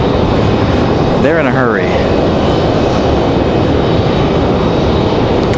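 A jet airliner taxiing at Raleigh-Durham International Airport, heard as a steady, loud engine roar throughout, with people talking briefly over it early on.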